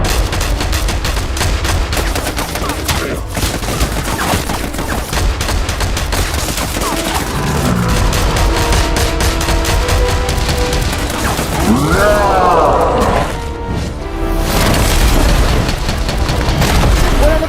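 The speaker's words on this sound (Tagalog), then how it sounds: "Open fire!" Continuous loud bursts of rapid cartoon gunfire and booms fill the clip, with sweeping effects and a brief lull near the end before firing resumes.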